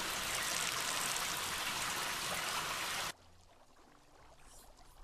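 Steady broadband rush of running water in The Sexy Brutale, loud and continuous for about three seconds, then cut off abruptly to a faint quiet background.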